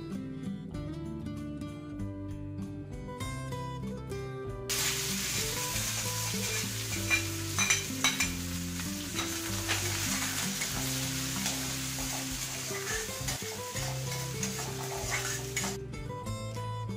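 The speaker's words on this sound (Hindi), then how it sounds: "तड़के को हमें बहुत अच्छे से क्रैकल होने देना है और उसके बाद हम इसमें डालेंगे प्याज" Onions fry in a hing tempering in a pan, a steady close sizzle with light stirring under continuous background music and no talk.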